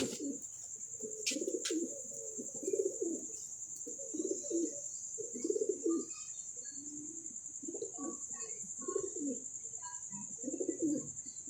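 Pigeons coo in soft repeated low bursts, close and steady in rhythm, over a constant high insect-like drone, with a couple of brief sharp clicks near the start.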